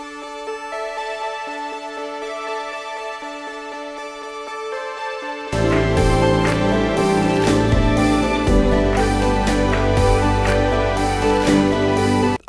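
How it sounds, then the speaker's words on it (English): Synth whose filter cutoff is automated to open toward a track's climax, starting as a thin repeating pattern, then full drums, bass and bright layers crash in halfway, loud and dense with no talking. "this is again the cutoff of the synth that I was using because I wanted it to grow up to"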